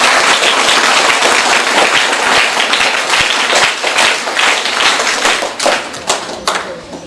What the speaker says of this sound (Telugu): ముందుగా అందరూ చప్పట్లు గట్టిగా చప్పట్లు కొట్టండి